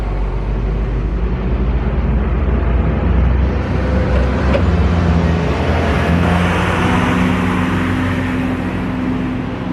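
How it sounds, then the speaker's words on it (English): Trucks rumble past at the Minnesota State Fair on Machinery Hill, a loud, continuous low engine drone with shifting tones as vehicles go by close to the microphone. "it's almost as though those trucks don't care that we're trying to vlog"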